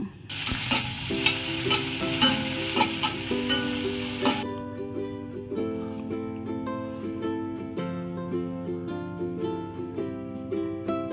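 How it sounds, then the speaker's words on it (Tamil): Crushed onion and curry leaves sautéing in sesame oil for a crab soup, a loud broadband sizzle for the first four seconds that settles into steady frying with repeated scraping and stirring strokes of a utensil in the pan. "நல்லா வதக்கிட்டே இருப்போம்."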